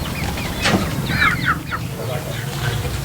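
Chickens cluck and chatter in short bursts on a home plot where hens are laying eggs, close by over a steady, noisy background.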